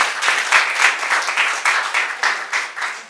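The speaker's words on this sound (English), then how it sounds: "A round of applause once again." Audience applause at a technology entrepreneurship training event, surging in quick waves of fairly loud clapping without pause.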